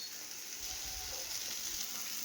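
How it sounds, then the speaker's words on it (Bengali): Mustard paste going into vegetables simmering in a pan, a faint, steady low sizzle and bubbling with a soft stir, quiet and close, with no talk. "এই এখন দিয়ে দেবো সর্ষে বাটাটা"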